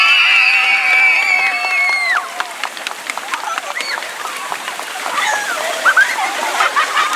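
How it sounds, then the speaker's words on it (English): A crowd at a swim team end-of-year party applauds and cheers for the coaches, a dense burst of clapping and shouts, loud and close, with voices and whoops scattered through it. "let's give a big round of applause to our FLST coaches"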